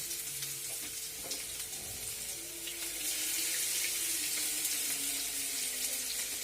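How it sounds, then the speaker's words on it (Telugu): Cabbage pieces deep frying in hot oil in a pan give a steady, dense hiss and sizzle that swells a little louder partway through and then holds. "ఆయిల్ వేడెక్కాక ఈ క్యాబేజ్ పీసెస్ని ఈ విధంగా వేసుకోండి."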